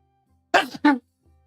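A single sharp human sneeze in two quick bursts, close and loud against near silence.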